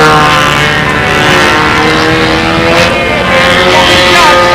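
A four-stroke engine on a control-line model airplane at a windy national championship contest, flying steady laps; a continuous loud, harmonic buzz holds throughout, with a speaker's voice over it.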